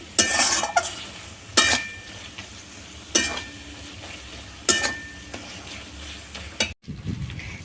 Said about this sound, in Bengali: মশলাটা কষে তেল ছেড়ে এসেছে